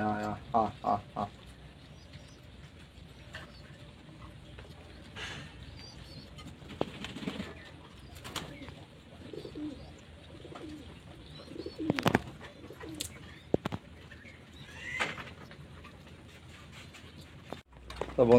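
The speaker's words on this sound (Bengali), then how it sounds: "সব পায়রাগুলো খেতে দিয়ে দিয়েছি, খাওয়া শুরু করে দিয়েছে প্রত্যেক ঘরে" Pigeons in a loft cooing softly while feeding, with scattered pecks, wing flaps and short bird calls spread through the scene at moderate distance.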